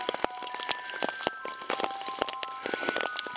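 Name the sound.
rain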